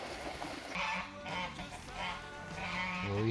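Goose honks in Murcia, Spain, a few repeated nasal calls close by over steady background noise, with people talking nearby.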